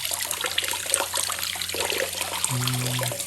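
Running water rinsing a brass trumpet, a steady close trickle and splash, with a lower, fuller gush of flow joining near the end.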